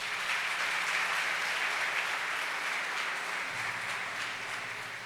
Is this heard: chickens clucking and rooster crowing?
no